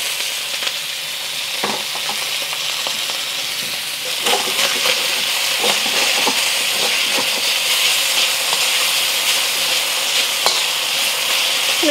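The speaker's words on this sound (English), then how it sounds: "I'm gonna let it sear for about a minute" Beef searing in hot oil in a pan for fried noodles, a loud continuous hiss and crackle with a few stirring scrapes, growing slightly stronger midway, no voices.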